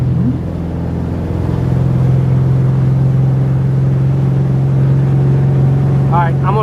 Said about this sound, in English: See, it's got a great wake. Boat handles like a dream.